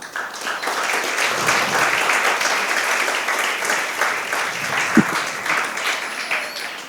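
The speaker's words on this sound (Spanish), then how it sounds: "Dele palmas al Señor." A church congregation claps and applauds for several seconds, a dense and steady roar of hands in a large room, broken by one sharp knock.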